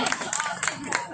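A seated audience at a memorial and journalist award ceremony breaks into brief bursts of clapping, uneven and fairly close, with talk mixed in.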